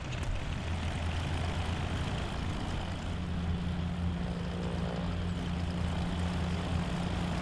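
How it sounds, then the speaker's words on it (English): A propeller aircraft engine drones steadily in the DayZ video game, a loud, continuous engine hum with a sustained low tone that persists throughout with no speech. "Is this like a new combination of little bird and plane?"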